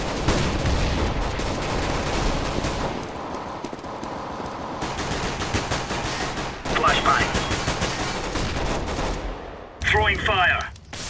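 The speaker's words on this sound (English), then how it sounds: "Laying down smoke, throwing a grenade." Sustained gunfire and a grenade blast echo through a video game firefight, loud rapid shots continuing with brief lulls, while a player talks over the action.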